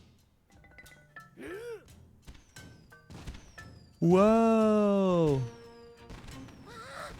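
Fireworks burst in Zelda: Echoes of Wisdom at a hot spring, soft thumps scattered among game music, while a gasp and a long sung or sustained voice swell loudly in the middle.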